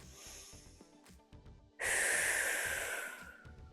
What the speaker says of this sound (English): Keep breathing in through the nose and out through the mouth.